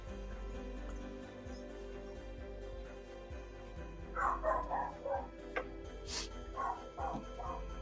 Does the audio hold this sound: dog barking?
yes